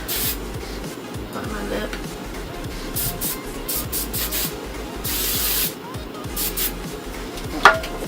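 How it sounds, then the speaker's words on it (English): Bursts of hairspray hiss onto freshly wand-curled big wavy hair, several sprays of varying length close to the mic, with a faint voice briefly speaking over the hissing. "make sure you have a little bit of hairspray on it"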